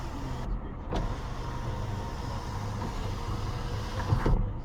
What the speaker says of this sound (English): We also have a sunroof, which works.